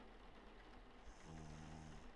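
A video game character snores in a slow, steady rhythm, each breath a low rasping drone, quiet and close against faint background ambience.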